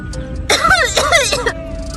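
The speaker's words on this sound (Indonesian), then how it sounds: "Batuk aku kayak gini nantinya." A woman produces a deliberately fake cough, two harsh bursts in quick succession, up close and loud against a quiet indoor background.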